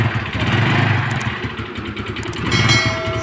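A Yamaha Nouvo scooter engine runs after starting, whose push-button starter had not worked. It gives a loud, close, rattly putter with uneven idle pulses.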